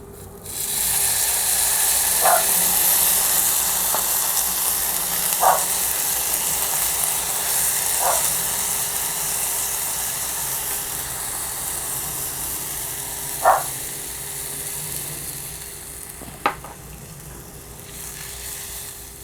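Steady sizzling hiss of rice frying in hot oil, continuous throughout, with a few faint clicks and taps of a utensil.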